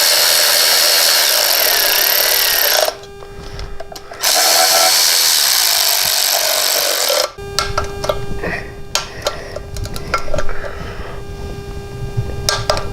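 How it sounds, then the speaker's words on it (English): A power tool spins bolts into a Harley Touring transmission cover in loud bursts, two long high whirs split by a short pause, then lighter ticking, clicking and handling noises up close. "Just put the cover on, put your bolts in, and run them in."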